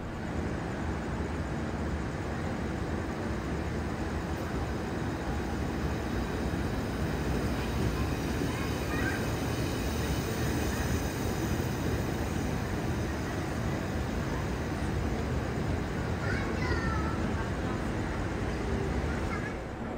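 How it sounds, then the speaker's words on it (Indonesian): A KRL commuter electric train rolls into Jakarta Pasar Senen station, a steady low rumble and hum filling the platform without a break, with faint squeals and someone talking over it. "Nah, ini ada masuk KRL ya."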